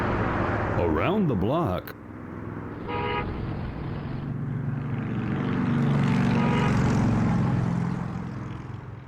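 Street traffic rumbles steadily with passing cars and a short horn toot, growing louder midway, after a brief spoken segment title and musical sting.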